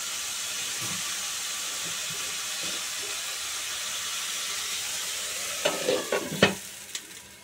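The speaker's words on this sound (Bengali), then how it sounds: "পটলটাকে ঢাকা দিয়ে 5 মিনিট ভাজা ভাজা করলে পটলটা প্রায় সেদ্ধ হয়ে যাবে।" Pointed gourd and potato pieces fry in a pan with a steady close sizzle, then a few sharp scraping stirs near the end, with no talking.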